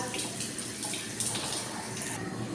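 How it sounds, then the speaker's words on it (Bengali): Broth is poured into a puti fish curry with flat beans, making a steady liquid splash and trickle with a few brighter spatters along the way. "এখন আমি একবারে ঝোল দিয়ে দিব"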